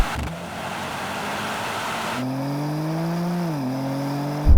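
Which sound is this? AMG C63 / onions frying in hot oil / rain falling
AMG C63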